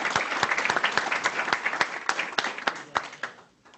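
Applause from an audience at the close of a talk on computational intelligence techniques in electrical systems, a modest group clapping with distinct individual claps that thin out and fade at the end.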